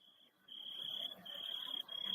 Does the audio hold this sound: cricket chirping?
yes